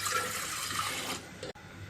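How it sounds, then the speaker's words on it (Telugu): Two cups of water are poured into a pot on the stove for coconut kudumulu, a short hissing, splashing pour lasting about a second before it stops with a light knock. "2 కప్పుల వాటర్ వేసుకోవాలి."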